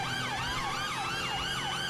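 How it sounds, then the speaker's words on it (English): A police siren in the video game GTA V wails in a fast, repeating up-and-down sweep, loud and continuous with no talking. "Okay, sirens are going off."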